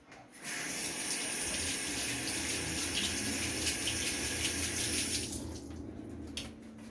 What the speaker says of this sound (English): I'm just going to rinse my hand real quick so that I'm not slipping all over the thing